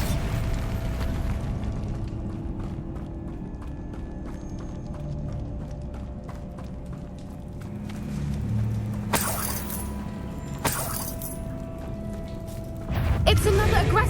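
A Bombarda spell in Hogwarts Legacy bursts as a pair of sharp blasts in quick succession and then a heavier rumbling burst, set against steady game ambience and a rumbling bed, with a voice speaking in the clip.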